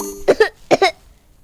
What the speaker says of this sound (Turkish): Oy arkadaş da öksürmesi mi?